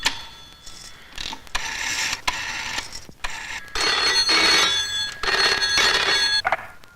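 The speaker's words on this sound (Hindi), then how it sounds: "मैं एक फोन कर सकूं हूँ?" A telephone rings during a phone call, with repeated jangling bell bursts and brief gaps between them. It is loud and close, mixed with mechanical clicking and dialing noises, and nobody speaks.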